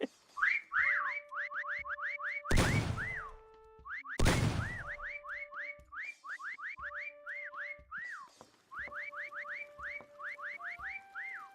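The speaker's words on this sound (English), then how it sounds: "Stop that whistling." Whistling in the Disney Dreamlight Valley video game, repeated rising-and-falling melodic whistle phrases in quick bursts, broken by two loud sharp whooshing impacts and a faint steady tone underneath.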